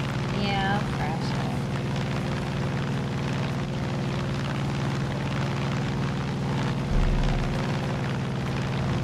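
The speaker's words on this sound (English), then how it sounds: "If you tried that with a real plane, you would fucking crash." A plane drones overhead in Far Cry 5, its steady engine hum continuous and loud beneath players talking over the game sounds.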